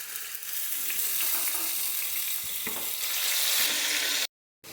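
Fried onion sizzles loudly in a pan as garlic paste and onion paste are added, a dense close hiss with light stirring scrapes that cuts off abruptly near the end.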